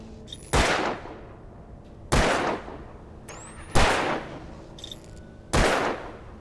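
Four loud single gunshots ring out in Alan Wake, spaced about one and a half seconds apart. Each one is a sharp crack followed by a short, fading tail, with only faint background sounds in between.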